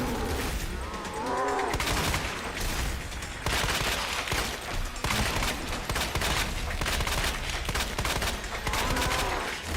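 Dense, continuous video-game gunfire rattles through the whole stretch, loud and close, with overlapping bursts and booms and no clear pauses.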